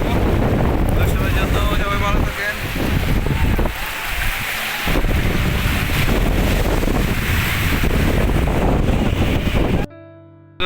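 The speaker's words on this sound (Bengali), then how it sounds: "সমুদ্রের সাথে অনেক ভালো লাগলো সমুদ্রের গর্জন" Sea waves roar and break along a beach in Qatar, with wind buffeting the microphone throughout and a steady wash of surf, crowded and loud until the sound cuts out near the end.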